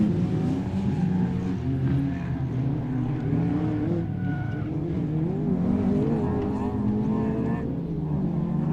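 Peugeot 205 rally car racing at a BTRDA Clubmans Rally Championship round at Blyton, its engine droning steadily and loudly throughout with shifting pitch, under a commentator's continuous talk.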